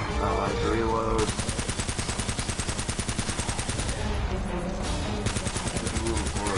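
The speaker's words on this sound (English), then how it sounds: "Just move forward to the gunfire." Continuous rapid gunfire in Uncharted: The Nathan Drake Collection, rattling automatic bursts that hammer on without pause, loud and close, with a voice briefly underneath.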